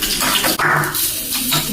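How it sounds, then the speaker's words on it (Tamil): Water drains off soaked rice flakes being prepared for sweet laddus, a steady, close splashing rush that lasts throughout with a brief dip partway. "ஸோ நான் வந்து தண்ணியெல்லாம் வந்து வடிச்சிட்டேன்."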